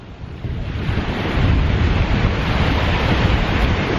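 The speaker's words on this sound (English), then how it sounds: "So you can see how strong these waves are now, guys." Loud, broad rushing surf with heavy wind buffeting the microphone, a continuous roar of strong waves building slightly after the first second.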